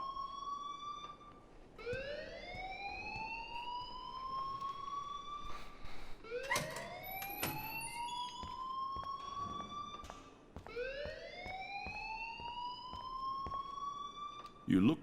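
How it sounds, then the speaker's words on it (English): An electronic alarm in the video game Life is Strange wails in repeated rising sweeps, each climbing in pitch and holding before the next begins, sounding loud and continuous with a brief sharp clatter partway through. "please turn off that alarm since that's your job"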